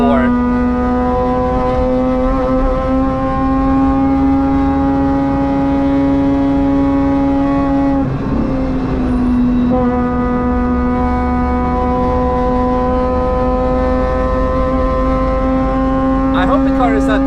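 A high-revving Mazda RX-8 rotary engine on a lap of the Nürburgring holds a loud, sustained tonal drone that drops briefly, likely a gear change, then climbs again. It stays constant and dominant throughout.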